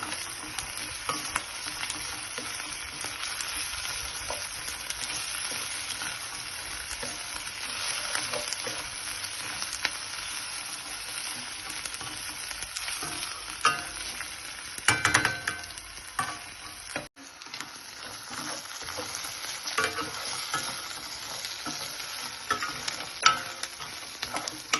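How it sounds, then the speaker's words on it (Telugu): Ginger garlic paste frying in a pan for chicken curry, a long, even sizzle with constant spatula stirring and occasional scrapes, close up and steady, briefly dipping near the end before resuming, no one speaking. "అల్లం వెల్లుల్లి పేస్ట్ పచ్చివాసన పోయే వరకు వేయించుకోవాలి."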